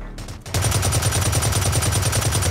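Rapid automatic gunfire in the shooter game Blacklight Retribution on PS4, a steady loud burst of machine-gun rattle starting after a brief quiet moment and continuing without pause.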